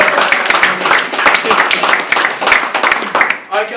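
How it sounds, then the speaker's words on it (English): A room full of kids claps in a round of applause at a meeting, a dense stream of hand claps mixed with cheering voices, close and fairly loud throughout. "give him a round of applause."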